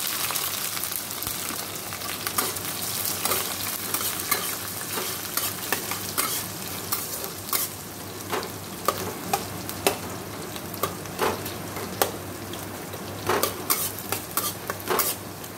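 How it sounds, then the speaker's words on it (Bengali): Onion sizzles steadily in hot oil in a pan seasoned with garlic, five-spice and dried chilli, with repeated scraping stirs of a spatula and utensil clinks throughout, close and fairly loud, without talk. "এবার এটা দিয়ে দেবো পেঁয়াজ"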